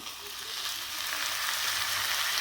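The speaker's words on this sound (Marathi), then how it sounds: "नूडल्स घालून घेऊ आपले" Noodles frying in a hot pan for a vegetable hakka dish give a loud, even, close sizzle that swells slightly as they settle, with no voices.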